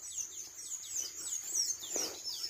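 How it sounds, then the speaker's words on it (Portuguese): Small birds chirping and trilling repeatedly in a wet garden just after rain, high bright calls fairly close and steady, with no talking. "Os passarinhos ali cantando."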